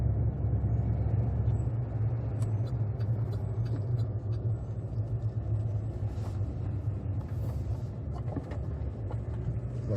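Car driving through town traffic on a misty June day in Charlottetown, a low steady road rumble and engine hum with faint passing vehicle noise, fairly quiet throughout.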